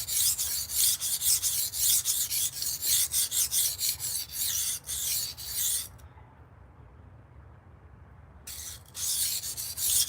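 A knife is sharpened with repeated abrasive rasping strokes in a steady rhythm, one of six knives and a pair of scissors going through; the scraping pauses for about two and a half seconds near the end, then resumes, close and loud.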